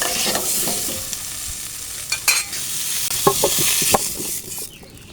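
Potatoes and cauliflower frying in a pan, a loud, close sizzle broken by scraping and stirring knocks, with a few sharper clatters near the end.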